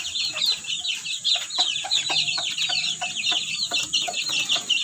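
Backyard chickens being fed cluck and chatter constantly at close range, a busy overlapping flock sound with repeated short calls and a bright high hiss behind.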